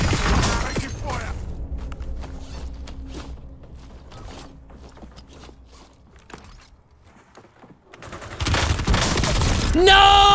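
Gunfire in a Warzone match, scattered sharp shots and footsteps at moderate distance, building to a loud, dense burst of fire near the end.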